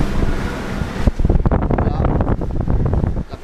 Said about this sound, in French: On a toujours beaucoup de vent